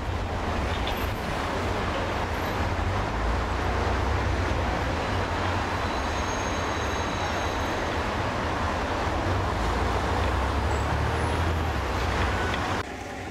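Dense road traffic circling the Arc de Triomphe in Paris, a steady loud roar of many engines and tyres close by with a constant low rumble throughout, no voices.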